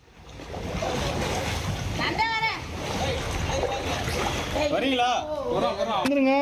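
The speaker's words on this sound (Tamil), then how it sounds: "வீடுகளில் முடங்கியுள்ள மக்களை தீயணைப்பு வீரர்கள் ரப்பர் படகு மூலம் மீட்டு வருகின்றனர்" Water churns and splashes loudly around a rubber boat moving through floodwater during a rescue, with wind noise buffeting the microphone and voices calling out partway through.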